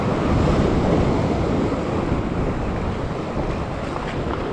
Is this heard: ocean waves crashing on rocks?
yes